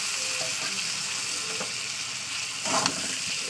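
Peeled boiled eggs and tomato sizzle in hot oil, a steady close frying hiss throughout with a brief louder burst of spattering near the end.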